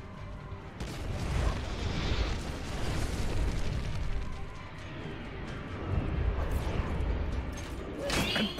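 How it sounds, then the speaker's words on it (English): In a video game, an enemy payload fires and detonates: heavy rumbling booms roll on with sharper bursts and crackling debris, loud and sustained, with no talk. "Enemy payload firing."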